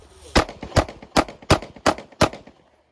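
Six pistol shots ring out in quick, evenly spaced succession during a draw-and-fire drill at a shooting class, each a sharp, loud crack that fades quickly, then quiet.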